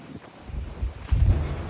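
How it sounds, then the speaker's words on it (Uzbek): Strong night wind gusts and buffets against the microphone, a rough low rumble that swells and surges louder toward the end. "Shunaqa shamol bo'lar ekan."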